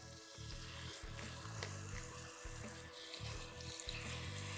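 Four hamburger patties (Salisbury steaks) frying in a pan for a low-carb meal, giving a steady, dense sizzle that runs unbroken through the whole stretch with no talking.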